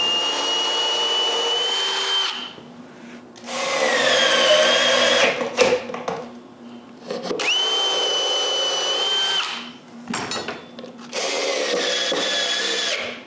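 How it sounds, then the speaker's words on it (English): A power screwdriver drives screws to fix a wooden back support on a woodworking sharpening station, whining loudly in four long bursts with short breaks between them. "I screw the back support in place"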